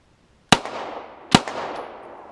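A post-war Walther P1 pistol fires twice, first double action and then single action, each a loud close crack with a short decaying tail, under a second apart.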